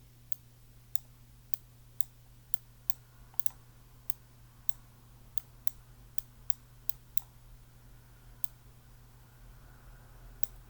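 Sharp, close computer mouse clicks repeat about twenty times at uneven intervals, sometimes in quick doubles, over a low steady electrical hum.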